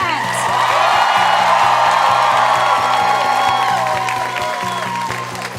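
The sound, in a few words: audience applause at cosplay championship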